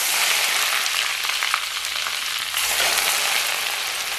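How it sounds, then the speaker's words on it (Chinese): Scalding hot oil poured over coarse and fine chili flakes, minced garlic, white sesame and scallions, giving a loud, dense, continuous sizzle and crackle close up, with no voices. "然后咱们给上边浇上滚烫的热油"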